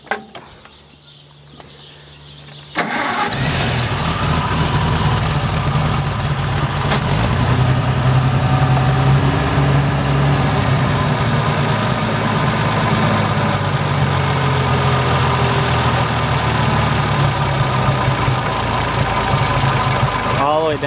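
An Oliver 770 tractor engine starts after a moment of quiet, then idles steadily with a low thrumming beat and light valve clatter, hardly any exhaust, close by.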